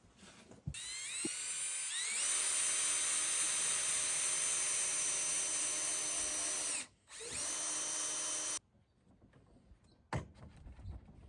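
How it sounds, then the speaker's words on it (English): A power drill driving screws into a piece of cedar on a workbench front rail whirs loudly in long steady bursts, close up, with a short gap partway through and then a brief quieter tail of handling knocks. "Now that I screwed the piece of cedar onto the front rail"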